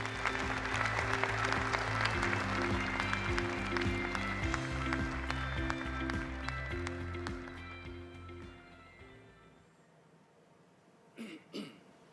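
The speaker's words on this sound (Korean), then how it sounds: "방위사업청 강은호 청장님과 한국항공우주산업 안현호 사장님을 큰 박수로 환영해 주시기 바랍니다" A ceremony audience claps to welcome officials at the KF-21 prototype rollout, steady applause over background music that gradually fades out, followed by a brief throat clearing or cough near the end.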